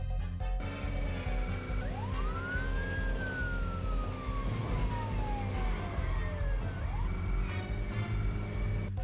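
Police car siren from the driving game Midtown Madness 2, a rising and falling wail sweeping across the middle of the clip over a steady, loud engine drone, with no talk.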